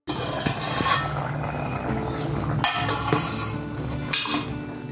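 A metal lid goes onto a pot of tapioca cooking with green chilli, turmeric and salt, with a couple of close clanks and clinks over a steady background hiss.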